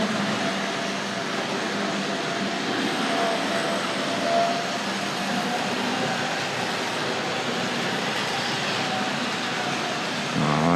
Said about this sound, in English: let's get the diesel locomotive underway.